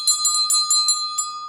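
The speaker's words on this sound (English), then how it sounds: "just ringing the bell next to you to signify the class has started" A small handheld bell rung to open a class in a sewing-machine workshop, with about seven quick bright strikes over a steady ringing tone, close and clear with no talk.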